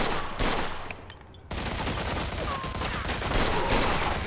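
Gunfire in Mafia 2 Definitive Edition: rapid bursts of shots crackling over a busy, noisy firefight, with a brief lull before the shooting surges back loud and continuous.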